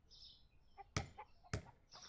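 Chickens in the indie game The Plague Doctor of Wippra give a few soft clucks and squawks, quiet and sparse, with two sharp thuds in between.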